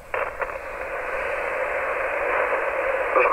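A radio receiver hisses with steady broadband static, a dense, even rush of noise that swells slightly toward the end, close and loud with no clear voice over it.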